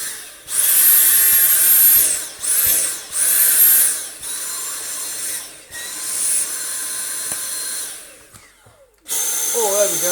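A cordless Dyson V7 or V8 vacuum cleaner whines loudly at a high pitch, cutting out and restarting several times in short bursts before running steadily again, with no talk over it.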